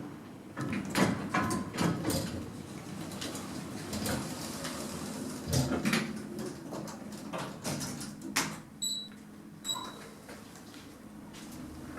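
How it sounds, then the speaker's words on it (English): Elevator doors slide shut inside a lift shaft, a sustained mechanical rumble with rattling clunks and scraping, close and fairly loud, with faint beeps near the end. "Doors closing."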